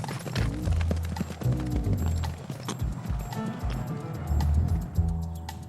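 Thoroughbred horses' hooves clip-clopping on hard ground at a prestigious French stud farm in Nonant-le-Pin, a near, loud, irregular run of hoof strikes heard alone.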